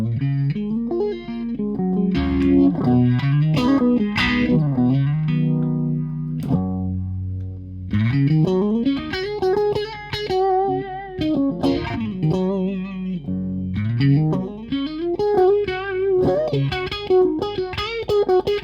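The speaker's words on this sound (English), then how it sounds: "I'll put a bit of univibe on there." Electric guitar chords, an open G and a major 9 voicing, played through a univibe effect, with a swirling, pulsing tone, distorted and reverberant, ringing loudly and continuously with no talk.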